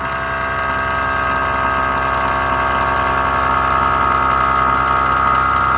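Steady electric pump motor hum with a tonal whine as the suspension on a Tilta full-floor tandem race car trailer lifts to ride height, constant and close with no talking.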